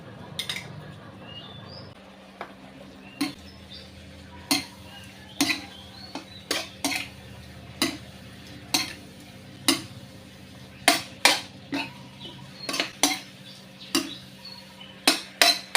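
Sliced pork is stir-fried with southern curry paste in a pan, a metal spatula striking and scraping the pan in a steady rhythm of sharp clinks over a quiet background.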